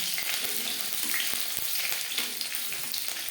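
Three or four garlic cloves frying with chillies in a pan, a dense, steady hiss of hot oil with a few faint taps of a spatula, close and even throughout.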